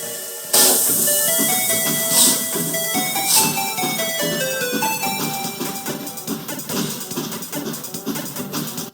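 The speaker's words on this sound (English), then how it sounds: "The train is now departing." A train in a video game pulls away with bursts of steam hiss and a rising mechanical hum, tinny and synthetic, with no talking.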